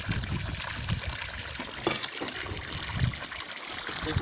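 Water running into a 250-liter tank on a rural property, a steady trickling and splashing flow at moderate level with small bumps and gurgles throughout.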